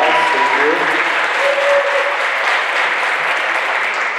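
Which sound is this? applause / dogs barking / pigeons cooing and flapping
applause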